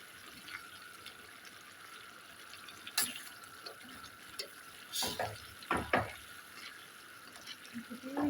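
Chicken stirred and fried in a pan with no added water for a sandwich filling, heard as quiet steady sizzling broken by several sharp scraping stirs and clatters, close and without talk.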